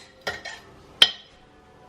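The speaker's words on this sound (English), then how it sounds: "Now we're gonna put in our onions that we chopped" Chopped onions tipped into a crockpot for a Zuppa Toscana, giving two short clattering, clinking impacts close by with a brief pause between them, then another faint knock at the end.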